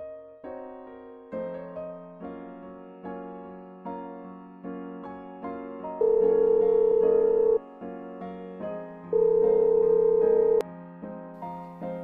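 A melodic phone ringback tune in the game Sakura School Simulator plays: repeating notes with a sustained steady beep tone sounding twice, clear and close.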